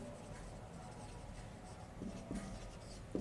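Handwriting during a Class 9 NCERT maths lesson on circles, a marker or pen working out an equation by hand, with a steady scratchy texture and a few slightly louder strokes near the end, no talk.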